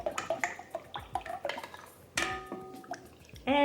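Kefir starter being added to milk in a kitchen for Ukrainian-style farmer's cheese, with a series of close drips, splashes and light clinks of a container, then a louder pour and a stir near the end.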